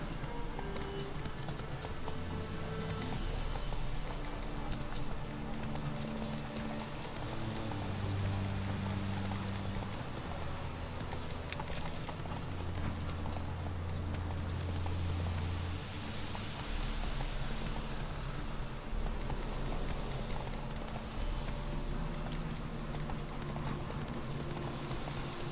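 Roach the horse gallops in The Witcher 3, a steady clip-clop of hooves pounding on and on under a constant hiss of rain, loud and close for the whole stretch.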